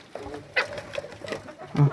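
Short, scattered clucks and bird calls from nearby chickens and a rooster, a few separate bursts over a quiet background.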